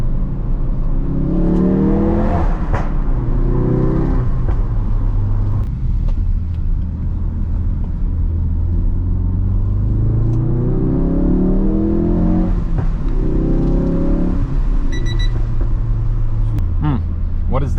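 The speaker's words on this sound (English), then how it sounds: "and a little bit of that pop and banging sound" A Ford Focus RS engine revs and rumbles through a tunnel, with a few sharp exhaust pops near the end, while people talk over the engine noise.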